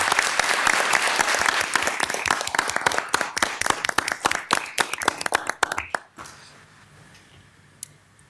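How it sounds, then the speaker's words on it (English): An audience at a city council meeting applauds for Dr. Tung, a dense burst of clapping that thins into scattered claps and fades out after about six seconds, leaving a quiet room. "let's all give uh, Dr. Tung a round of applause, please"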